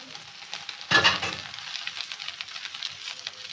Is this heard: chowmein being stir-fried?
yes